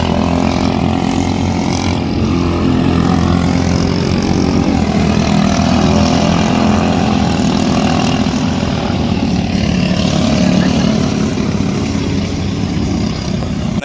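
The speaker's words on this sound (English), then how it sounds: "the motor definitely does not sound like it's pulling. It doesn't have power." A race motor runs steadily without pulling or making power, a loud continuous low drone that holds throughout with no speech.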